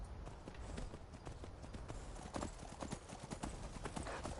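Horse hooves galloping in the video game Skyrim, a quick rhythmic clatter of repeated hoofbeats running steadily, fairly faint and without talk.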